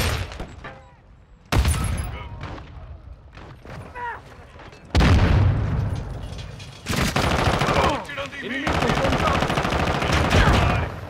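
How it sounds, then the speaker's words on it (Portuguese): A grenade is thrown and explodes amid Call of Duty MWII multiplayer combat on the Shipment map: sudden loud blasts break in among dense, rapid gunfire that keeps going with close, harsh bursts. "Granada lançada! Jogando granada!"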